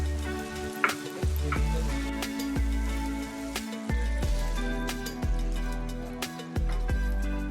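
Macaroni masala frying in a pan hisses and sizzles steadily as chili flakes go in, with recurring clinks and scrapes of stirring over the constant crackle, nearby and fairly loud.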